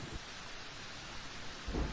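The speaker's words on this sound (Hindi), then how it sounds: "बाहर बहुत तेज बारिश हो रही है।" Heavy rain pours steadily with a dense hiss, and a deep thunder rumble swells near the end; no voices are heard.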